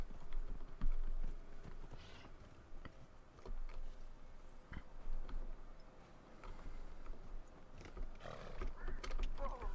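Horse hooves clop and gallop in the video game Dragon Age Inquisition, a continuous rhythmic patter at moderate level beneath game ambience.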